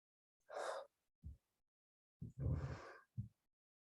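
Slow, deliberate breaths during a shoulder-roll stretch at the end of a lower-body workout: two long airy exhales, each followed by a short sharp inhale, close and fairly quiet with silence between.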